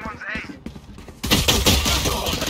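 Rapid gunfire bursts in the first-person shooter Valorant, loud and dense in the second half after a quieter opening with a voice speaking.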